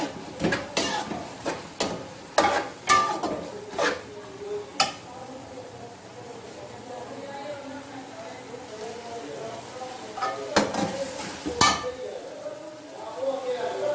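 Masala with green chilies being stirred and fried in a pan for masala bhindi, with scraping and clinking of a spoon against the pan in bursts over a soft sizzle.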